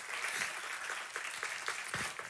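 Church congregation applauding together during a Spanish-language sermon, a steady wash of many hands clapping at moderate volume throughout, with no voices over it.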